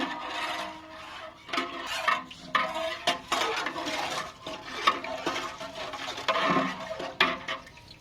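About 1.5 kilos of green chillies fry in a large kadhai over a wood fire, with repeated scraping and stirring of a metal ladle against the pan in uneven bursts.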